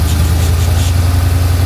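A car engine idles steadily after its exhaust header leak has been repaired, a smooth, continuous low rumble with no ticking or knocking, close and loud throughout.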